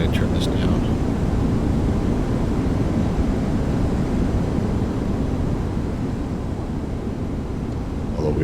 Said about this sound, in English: We are back closer to the engines.